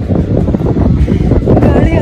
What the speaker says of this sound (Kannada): ಗಾಳಿ ಯಾಕೋ ಸಪೋರ್ಟ್ ಮಾಡ್ತಿಲ್ಲ ನನಗೆ.